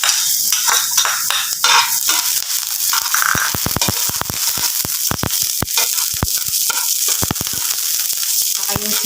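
Garlic sizzles steadily in a small amount of cooking oil in a pan, the start of chicken adobo with coconut milk, with sharp metallic clicks and scrapes of stirring over the loud frying.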